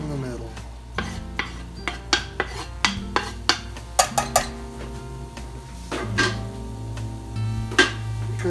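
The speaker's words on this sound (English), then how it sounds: "we're going to put our onions right down the middle" Chopped onions in the hot center of a pan used like a Chinese wok, with meat pushed to the side: a dozen or so sharp metallic clanks of a utensil on the pan over a steady hum and light sizzle.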